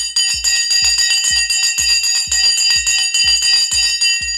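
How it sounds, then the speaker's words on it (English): A stock market opening bell rings loudly and alone as a rapid, steady train of metallic strikes, about two per second, sustained for several seconds. "The bell has gone."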